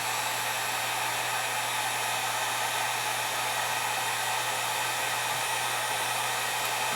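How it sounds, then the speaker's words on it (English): A heat gun blows hot air onto a solder heat-shrink connector, a loud, even rushing whoosh held steadily up close. "Now, all I gotta do is turn on my heat gun."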